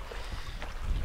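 Gusty wind buffets a fishing boat on Lake Shasta during a bass tournament, a steady low roar of wind noise that swells near the end, with no talking.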